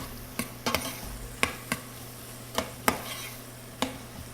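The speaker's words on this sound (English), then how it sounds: "onions and our cabbage get sauteed" Onions and cabbage sautéing in butter in a pan give a steady low sizzle, broken by about ten sharp scrapes and clacks of stirring spread irregularly across the stretch, with no talking.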